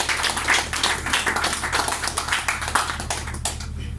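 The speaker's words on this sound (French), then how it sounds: "Sous nos applaudissements." An audience applauds at a New Year's greetings ceremony, with dense, continuous clapping from many hands filling the room for several seconds.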